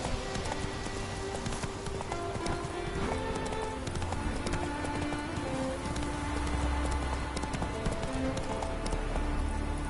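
Horse hooves clip-clopping at a run in the video game Witcher 3, a steady near rhythm of hoofbeats under a dense bed of music and ambient game sound, with a brief soft voice at times.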